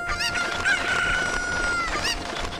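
Chickens cluck and a rooster crows repeatedly in The Legend of Zelda: Ocarina of Time, a loud, busy flurry of game bird calls over steady background music.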